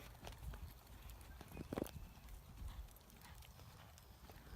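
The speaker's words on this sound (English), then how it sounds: "let's go to a canter" Horse hooves at a canter during a riding lesson, a quiet, rhythmic clip-clop recorded from some distance over a rumbling background.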